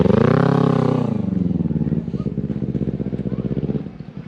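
A motorcycle on a street in Bali, its engine loud and close, starting with a rising rev then settling into a pulsing idle-like chug as it passes and fades.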